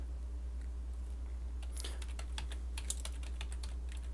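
Computer keyboard typing: faint, quick clicks and taps in irregular bursts over a steady low hum, growing busier partway through, with no talking.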